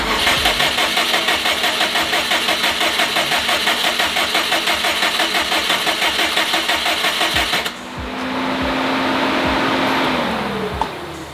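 A 730 hp Subaru WRX, being returned to stock, cranks with a rapid, rhythmic starter churn for about eight seconds. Then it catches and settles into a steady, loud idle.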